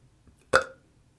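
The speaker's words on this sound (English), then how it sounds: "I just discovered that I have a burp button just here." A single short, loud burp, close and abrupt, in an otherwise quiet room.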